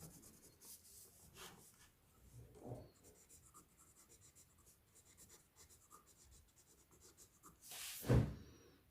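An ASA Nauka fountain pen with a broad nib scribbles on paper: soft, close scratchy strokes come in short bursts, quiet overall, with one louder rubbing scrape near the end.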